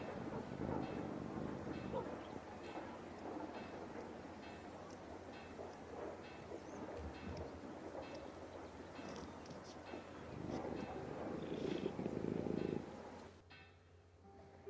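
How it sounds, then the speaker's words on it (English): A cat purrs in the video game Pillars of the Earth, a soft continuous rattling purr that carries steadily for about twelve seconds before dropping away quietly. "Cat."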